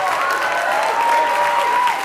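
Audience applause at a jazz concert at the University of Utah, a steady, dense wash of clapping from a seated crowd that holds evenly for about two seconds, with a sustained tone from the stage running beneath it.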